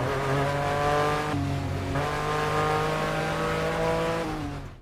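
A racing car engine from Grid Legends drones with a steady, loud harmonic whine, briefly dipping as if shifting gear before holding its pitch, with no talking over it.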